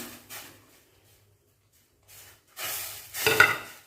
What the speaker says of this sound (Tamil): இப்போது கொஞ்சம் கொஞ்சமாக மாவை போட்டு நம்ம கிளறணும்